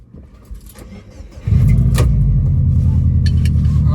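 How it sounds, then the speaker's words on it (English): A car engine with a burble exhaust tune cranks and fires up, then settles into a loud, deep, steady exhaust rumble at idle, very close. "see how the burbles sound"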